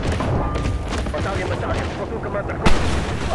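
Gunfire in the World War II shooter Red Orchestra 2, a sharp loud shot standing out near the end over a dense rumble of distant battle noise, with a voice talking over it.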